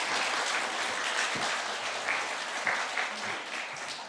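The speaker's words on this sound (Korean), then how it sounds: "큰 박수로 환영하겠습니다." Korean church congregation at a special dawn prayer meeting clapping to welcome the pastor, a sustained, even roar of many hands for about four seconds, fairly distant and soft.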